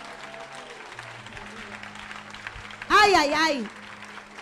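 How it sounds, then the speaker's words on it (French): A church congregation claps steadily throughout, a dense, rustling applause, while a loud voice cries out briefly near the end. "Aplauda fuerte, Acclamez fort."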